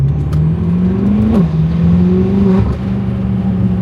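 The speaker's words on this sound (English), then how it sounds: "The X-pipe is the only thing you need on these cars to make it sound like that deep tone V8" A BMW F10 M5 V8 with an X-pipe exhaust idles with a deep, throaty rumble, then briefly blips higher and settles back down, close and loud.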